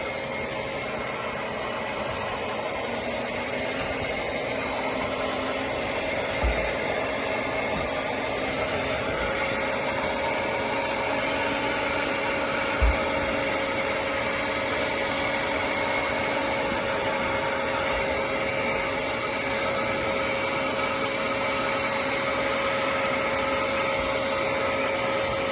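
A vacuum's suction is used to dry a 1975 Lincoln Continental, making a loud, steady, unbroken whine and roar that runs nonstop at close range, broken only by a couple of faint bumps, with no voices.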